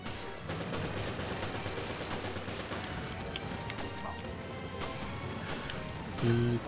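Gunfire in the survival horror game Resident Evil: Revelations, a steady dense mix of shots and crashing impacts under constant background clamor, with a louder burst near the end.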